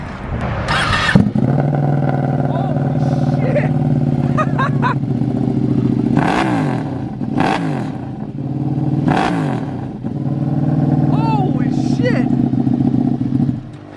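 A 2020 Streetfighter motorcycle engine with a carbon tail exhaust runs loud and close, with a steady rumbling idle broken by several sharp revs, while people talk over it.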